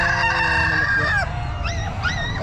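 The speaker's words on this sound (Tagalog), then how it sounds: "mga manok ng boss Richard" Roosters crow loudly at a busy Calumpit pet market, several drawn-out calls overlapping one another across a constant low crowd and engine rumble.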